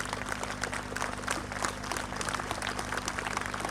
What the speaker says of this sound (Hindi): जोरदार तालियों से स्वागत कीजिए सर का